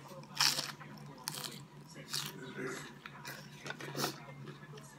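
Crispy fried rice salad (naem khao tod) crunches between the teeth in several bursts of close chewing over a steady background hum, with a voice speaking faintly underneath.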